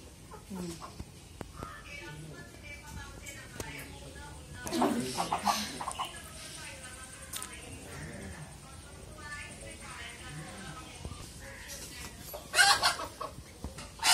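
A hen clucks on and off in a home setting, with louder bursts of clucking partway through and near the end, mostly under people talking nearby.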